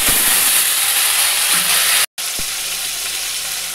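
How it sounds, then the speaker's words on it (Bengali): Tomato, onion and garlic paste for a Bengali-style rajma sizzles loudly in hot oil, a dense continuous hiss with a few faint spoon knocks and a momentary cut in the middle. "এইবারে এই বাটাটা আমি দিয়ে দেবো তেলের মধ্যে"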